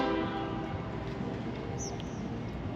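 Passing train up above a Montgomery riverfront, rendered as a continuous low rumble with a faint horn drone, moderately distant and slowly fading slightly, a brief high chirp near the end, no speech.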